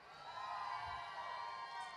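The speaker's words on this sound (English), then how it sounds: "please cheer now." A large convention audience at a comic con in London cheers and whoops in a sustained burst, a steady crowd roar with scattered high shouts lasting the whole moment.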